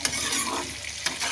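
Vegetables and slit green chillies sizzle in a hot pan for soup while being stirred, with scraping spoon strokes over a steady close frying hiss.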